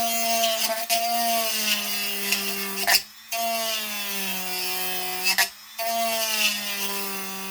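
A tool cuts a notch into the lip of a cup with a steady, close rasping hum, broken by two short pauses.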